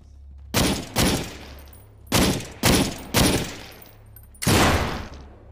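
Gunfire in the VR shooter SURV1V3: about six loud, close gunshots fired in irregular bursts, with booming reports and short decaying tails between shots.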